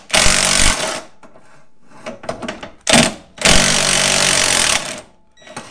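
A power tool works on a rear ball joint of a Lotus Elise, loud close bursts of hammering buzz: a long burst, a short jab, then another long burst, with quieter clanks between.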